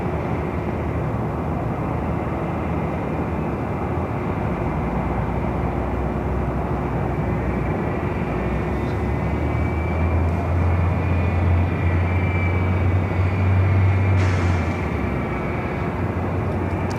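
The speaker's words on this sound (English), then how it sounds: "that was the flight coming in from Vegas, Delta Airlines flight 2253, A321 Neo" A Delta Air Lines Airbus A321neo arriving from Las Vegas at Los Angeles airport gives a steady broad jet roar, with a faint whine rising and swelling toward the end.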